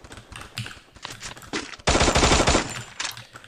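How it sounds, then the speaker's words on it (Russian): Gunfire in Free Fire, scattered short bursts of rapid shots building to one loud sustained volley near the end, with no talk over it. "Почему у меня сзади еще кто-то стреляет?"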